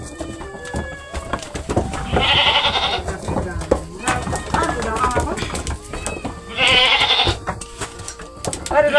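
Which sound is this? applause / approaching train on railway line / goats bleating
goats bleating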